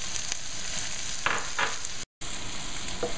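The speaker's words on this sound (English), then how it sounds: "Okay, in goes the garlic, some stragglers." Garlic sizzles steadily in hot olive oil in a pan, a dense continuous frying hiss with a few brief stirring scrapes and a short gap near the end.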